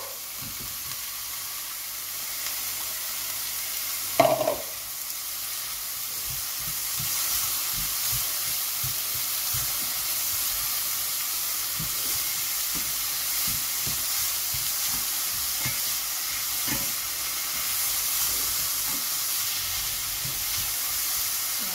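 Leeks go into a simmering pan of prawn noodles with a brief clatter, then a steady sizzle and hiss carries on alongside occasional soft stirring ticks, close by and with no voices.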